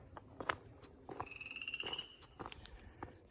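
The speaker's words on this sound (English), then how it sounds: "got a frog singing in the water tank there" A frog croaks inside a water tank filled with cold spring water, giving a few short resonant calls and one drawn-out warbling trill, close by against a faint background.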